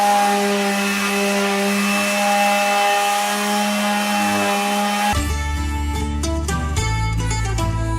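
A power sander with 80 grit sandpaper works over a wooden workbench, a loud steady whine that shifts abruptly midway into a rougher, lower grinding tone, with no voices.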